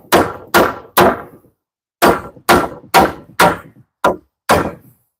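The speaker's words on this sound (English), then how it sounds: "there's no nails in the spot where we're at, where we're hammering" Nine hard hammer blows on a door frame during building work, sharp and loud, in two spaced groups with ringing decay after each strike and no talk.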